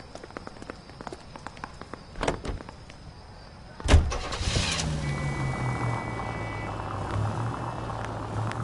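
Vintage car engine starting in the video game L.A. Noire, a door thud and ignition crank followed by a steady low idle, preceded by faint background city ambience.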